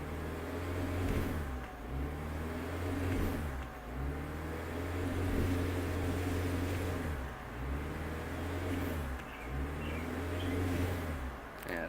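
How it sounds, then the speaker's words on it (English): A 2017 Chevy Cruze engine revving while parked with the brake held, a steady loud mid-pitched drone that rises and dips in several waves, heard close and alone. "I'll just hold the brake and the gas, and I think it'll go up to about 10, 12 while it's parked here"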